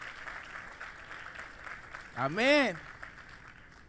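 A church congregation applauding during a sermon, steady moderate clapping throughout, with a voice calling out briefly over it.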